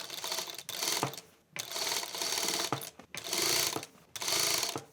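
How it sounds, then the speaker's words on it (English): A sewing machine stitches the neckline of a hoodie in several close bursts of rapid mechanical clatter, separated by brief pauses as the fabric is guided. "align the foot to the neckline edge and continue sewing to the front"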